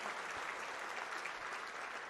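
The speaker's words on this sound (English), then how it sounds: "How about a big round of applause?" Indoor banquet crowd at the Cornhusker Marriott in Lincoln giving a sustained round of applause for an IMCA championship race team, dense steady clapping from many hands throughout, fairly faint and without talk.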